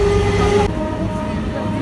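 A local passenger train on the Sealdah–Katwa line runs near Jagaddal station, a steady close rumble of wheels and carriage noise that thins abruptly partway through and carries on more muted.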